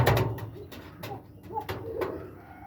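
Pigeons on a farm give a few soft, throaty coos in quick succession, fairly near and clear over quiet surroundings.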